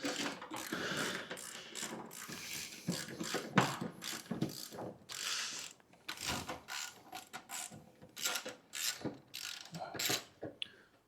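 Ratchet clicks come in quick bursts with short pauses between them, close and fairly clear, as bolts are backed out of the front wing on a Mazda MX5.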